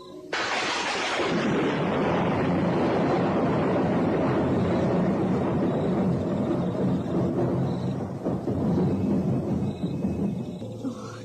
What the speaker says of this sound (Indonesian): Mengapa petir itu berbunyi keras sekali?